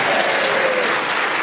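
Studio audience applause on a panel comedy show, a full, loud and sustained roar of clapping heard on its own.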